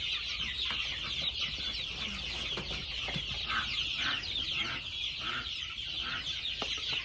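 Chicks in a makeshift off-grid brooder clucking and peeping continuously, a dense close chorus of overlapping chirps with no talking.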